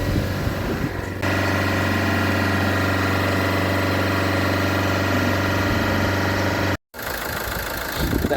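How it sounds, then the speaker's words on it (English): A car engine held at high revs to clean a clogged DPF drones loud and steady close by, with a brief cut near the end. "The engine is running perfectly fine."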